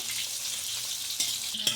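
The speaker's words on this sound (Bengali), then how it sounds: "দেখো, শুক্তোগুলো লাল লাল করে ভাজা হোক," Bitter gourd pieces for Bengali shukto fry in hot oil, a dense, even sizzle close up with a couple of faint utensil taps and no speech.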